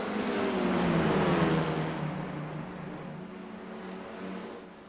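Race cars roar around the Nashville Fairgrounds track at the green flag, a loud, dense engine drone that swells and then gradually fades, with no talk.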